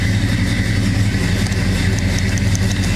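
A 1969 Pontiac GTO Convertible engine idles steadily nearby, a loud low rumble with an even throb and no change in pace.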